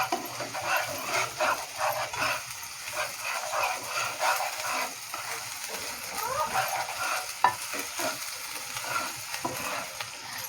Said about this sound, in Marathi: फ्राय करून घ्यायचं तेलामध्ये. आलं लसूण पेस्ट टाकायची आपल्याला.